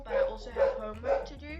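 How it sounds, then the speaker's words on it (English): Dogs barking indoors in the background, several muffled woofs in quick succession under a woman's continuous speech. "excuse the dogs in the background"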